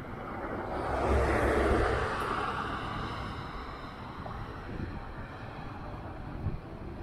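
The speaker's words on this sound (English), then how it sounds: "Really windy." Wind rushes past while cycling in a bike lane, swelling into a loud gust early on, then settling into a steady, lower whoosh.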